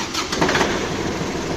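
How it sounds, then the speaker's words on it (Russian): A Kubota L1-205 mini tractor engine starts and settles into a steady rumbling run, close and fairly loud throughout. "Трактор сейчас заведем."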